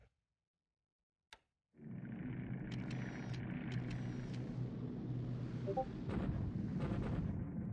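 Bombing in the War in the Pacific game: after a sharp click, a sustained rumbling roar of explosions rolls on at moderate loudness with scattered crackles, and nobody speaks.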